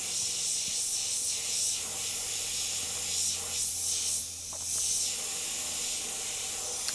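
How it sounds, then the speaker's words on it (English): Airbrush spraying white paint over a clown design, a steady airy hiss running throughout at close range with slight swells as the spray moves between areas. "spray over certain areas to start to build the white"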